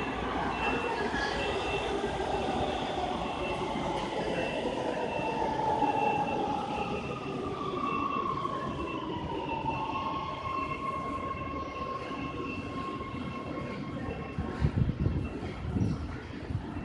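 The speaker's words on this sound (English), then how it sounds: "This is the downtown metro station." Train at a downtown Los Angeles subway metro station, a steady rumble of rail cars rolling through with drawn-out wheel squeal tones, ending in a few louder clanks.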